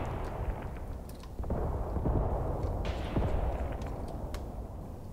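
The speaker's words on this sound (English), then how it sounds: "The mortar strike at the homestead is landing just now." A mortar strike lands on a homestead in the war game Graviteam Tactics, a steady low rumble of distant explosions and artillery thuds rolling on for several seconds at moderate loudness.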